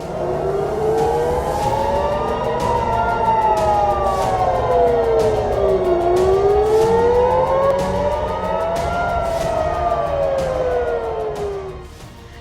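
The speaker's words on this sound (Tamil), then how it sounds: "வான்வழி தாக்குதலுக்கான எச்சரிக்கை சைரன்கள் தொடர்ச்சியாக ஒலிக்கின்றன" Air raid warning sirens in Israel wail continuously, rising and falling in long sweeping cycles, loud and echoing across the city with several sirens overlapping.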